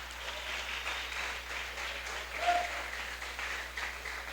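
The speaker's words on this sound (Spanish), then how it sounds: "Démosle un aplauso de gloria al Señor" Applause from a church congregation at a seminar, a steady sustained patter of many hands that holds at an even level throughout, with a brief swell midway and no talking over it.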